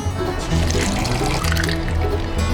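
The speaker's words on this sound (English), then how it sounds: "we're actually going to pour some unsweetened iced tea" Unsweetened iced tea pours steadily into a moonshine cocktail for a couple of seconds, a continuous close splashing and trickling stream.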